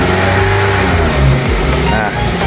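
A car engine revs up as the throttle is pressed slowly and then harder, a loud, close mid-pitched roar rising and falling over a couple of seconds, with a voice speaking over it.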